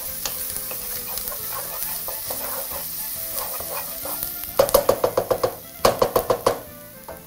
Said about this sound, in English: especially when sweating out your onions, be sure to always regulate the heat